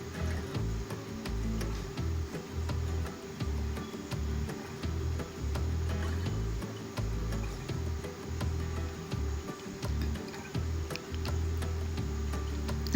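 Chopped onions and curry leaves sizzle and sauté in hot oil in a pan, a steady frying crackle with irregular stirring clatter throughout, close and fairly loud with no talking.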